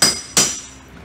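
Two sharp hammer blows knock down part of a wall during a bathtub installation. The strikes land close and loud, about a third of a second apart, each followed by a brief fading ring.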